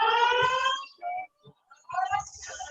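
An electronic fire alarm in a town board meeting room sounds in a loud, steady repeating tone for nearly a second, then breaks off into short faint bursts before returning at similar strength.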